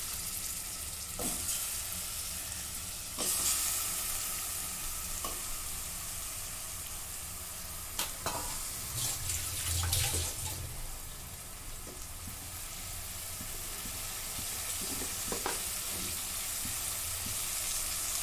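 Washed mutton pieces go into a hot pan with turmeric for a spicy mutton rassa, giving a steady close sizzle and frying hiss broken by scattered clinks and scrapes of stirring.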